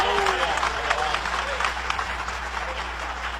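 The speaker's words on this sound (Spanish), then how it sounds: "Dale ese aplauso de alabanza al Señor" Steady applause from a church congregation praising God, dense clapping filling the whole stretch at an even loudness, with some voices mixed in underneath.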